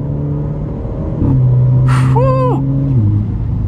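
An Alfa Romeo Giulia engine drops through gears with a rising rev blip, then sharp crackles and pops from the exhaust, loud and close.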